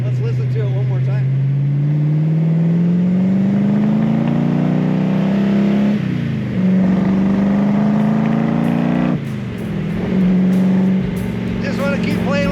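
A 1965 Shelby Cobra Factory Five replica with side pipes revs hard and close, its loud engine note climbing steadily through two long pulls with brief dips between shifts, a voice speaking over it.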